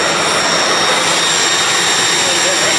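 Freshly built Jeep 5.0 stroker engine running at steady RPM after its first start, a loud, dense, unbroken roar close by with voices mixed in.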